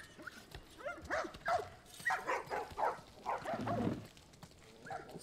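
Several dogs in The Last of Us Part 1 bark, yip and whimper in a string of short overlapping bursts, fairly quiet and close, with brief gaps between calls.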